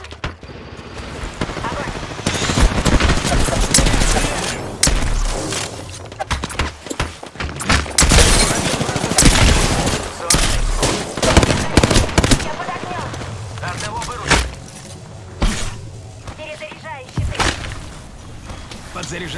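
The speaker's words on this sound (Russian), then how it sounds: "Эй, по мне тут стреляют." Video game gunfire is aimed at the player, with bursts of automatic fire and single shots in uneven clusters throughout, loud and close, while someone talks over the action.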